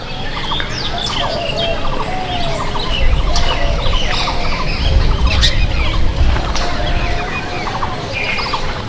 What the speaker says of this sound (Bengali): এই দেখুন পায়রাগুলো